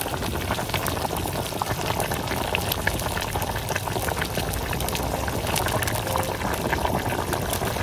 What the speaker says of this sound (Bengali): তরকারিতে বলক এসে গেছে।